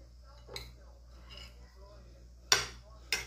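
Cutlery clinks against a dish while a vegan meatball is cut, a few faint taps followed by two sharp, close metallic clinks near the end, with a low background hum.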